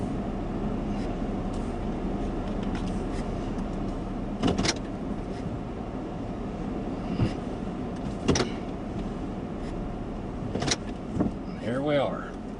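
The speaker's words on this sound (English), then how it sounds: "This is my first automatic garage door and first garage door I could ever drive into in my whole life." An automatic garage door runs as a car drives into the garage, heard from inside the car: a steady mechanical hum over road and cabin noise, with a few sharp clunks toward the end.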